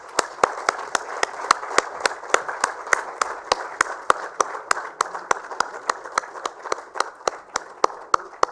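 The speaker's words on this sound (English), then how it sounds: "A big round of applause for the Center for Policy Research," An audience applauds at a sanitation awards ceremony in India. Sharp claps land in a quick, even rhythm over a dense wash of hall noise, continuing for several seconds.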